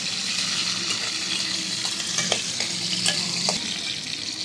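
Green and red capsicum pieces fry in a pan with garlic, giving a steady close sizzle broken by several sharp clicks and scrapes from stirring.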